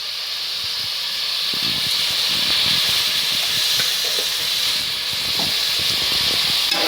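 Chopped tomatoes sauté in a pan with turmeric and rock salt for a tomato rice dish, giving a steady loud hiss and sizzle with faint scraping and bubbling, close up and without talk.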